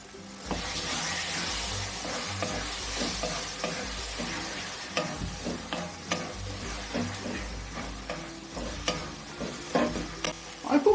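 Thick roasted tomato pulp being stirred into frying eggplant bharta in a pan, with a steady close sizzle and irregular scraping, squelching stir strokes that grow more pronounced toward the end; no one talks.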